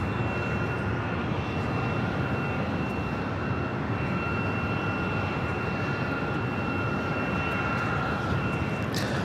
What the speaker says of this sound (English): Next arrival is Delta Airlines flight 463 coming in from Kahului, 767-300ER